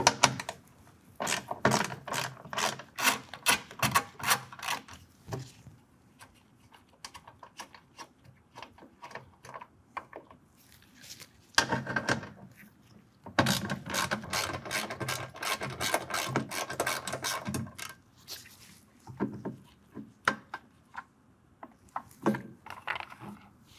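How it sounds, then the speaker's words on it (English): A ratchet with a 10mm socket works factory bolts loose on a 2023 Ford F-250 during a running-board bracket removal: long runs of quick, close clicking strokes in bursts, separated by quiet pauses, no talk. "use a 10mm, remove these two factory bolts, and remove this bracket here"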